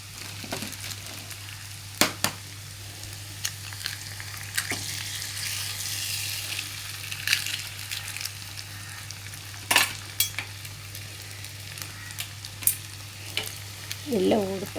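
Three eggs cracked into a hot pan for Tamil-style egg rice sizzle softly and steadily, with several sharp scrapes and clinks of a spatula stirring them, close and clear with no talking.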